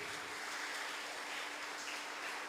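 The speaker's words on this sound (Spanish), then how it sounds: "dale un aplauso a Jesús" A church congregation applauding during a worship service, with steady, dense clapping that fills the whole short stretch and carries no speech.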